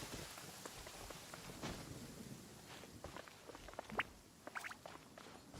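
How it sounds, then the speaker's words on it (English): Steady rain patters on surfaces in a video game world, soft and continuous, with scattered drips and faint low rumbles of a distant thunderstorm beneath. "What's with all the thunderstorms?"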